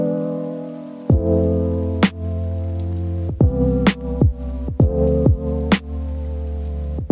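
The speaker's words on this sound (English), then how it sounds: "First, let's wash the Tupperware." Tap water runs while Tupperware is washed, giving a steady hum with repeated sharp splashes and knocks at irregular intervals, close and moderately loud, with no talking.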